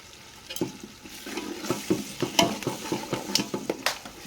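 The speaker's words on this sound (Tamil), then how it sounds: "நல்லா கலந்து விட்டுக்கலாம்" A spoon stirs yogurt into a tomato biryani masala in a pan, giving soft wet scraping strokes at a steady rhythm over a faint sizzle, close and alone.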